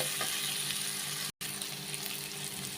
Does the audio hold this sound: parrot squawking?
no